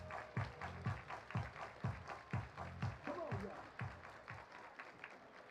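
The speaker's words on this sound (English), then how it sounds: "Everybody clap your hands." Baseball crowd clapping in rhythm at a minor league game, Reading Fightin Phils at Somerset Patriots, a steady beat of claps under looping stadium organ notes, moderately loud and spread out.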